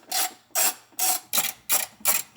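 A ratchet wrench clicks through six quick bursts, loosening a 13 mm bolt on the battery hold-down bracket of a crashed manual Audi S5, close and clear with no talk.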